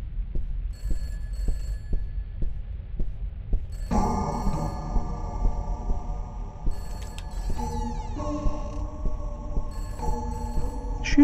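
A telephone rings in the Peter's House video game, repeated ringing tones over a low rhythmic thumping background, joined midway by a louder layered tonal chime that continues to the end.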